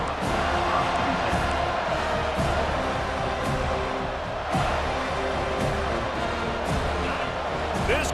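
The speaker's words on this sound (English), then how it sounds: "This crowd bringing the energy and noise early." A college football stadium crowd at Wake Forest against FSU keeps up a dense, loud roar with scattered thumps, while a commentator talks over it.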